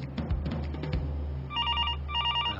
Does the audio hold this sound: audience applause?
no